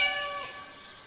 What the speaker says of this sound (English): there was a black cat sitting there.